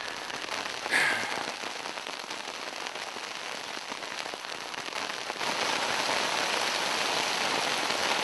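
Steady heavy rain patters densely on a nearby tent, growing louder partway through, with a brief brighter splash early on.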